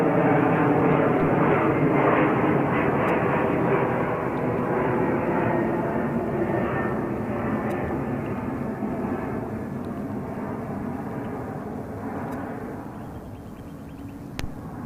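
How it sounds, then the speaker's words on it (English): A Delta Airlines jet arriving at JFK airport in New York from Paris produces a loud, continuous broadband engine roar that slowly fades over about fifteen seconds, with no talk over it. "And arriving from Paris, France to JFK, New York is Delta Airlines Flight 265."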